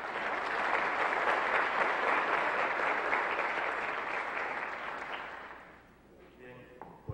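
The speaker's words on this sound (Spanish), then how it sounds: "Un aplauso para Víctor, por favor." Audience applause at a conference opening, a steady dense clapping from a seated crowd that holds strong for about five seconds, then thins and fades out near the end.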